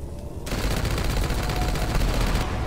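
Continuous rapid gunfire in the TCSR video game starts abruptly after a brief quiet moment and rattles on steadily, close and loud, with no talking.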